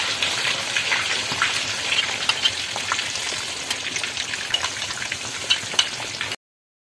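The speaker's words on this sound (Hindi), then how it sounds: "इसको हम तकरीबन 2 मिनट तक फ्राई कर लेंगे।" Leg of lamb (raan) frying in a pan gives a steady, dense sizzle with scattered crackles and pops, alone without talk, ending abruptly.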